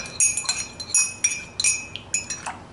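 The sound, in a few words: spoon stirring honey into mesquite bean coffee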